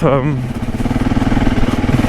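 A Husqvarna 701 Enduro motorcycle engine chugs at low revs on a green lane, a steady pulsing thrum close up, after a brief moment of talking at the start.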